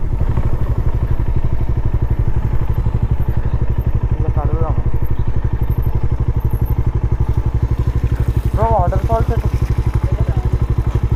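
A Bajaj Dominar motorcycle rumbles loudly and steadily while being ridden on a trip, its low engine drone constant and close, with a rider's voice cutting in briefly a couple of times.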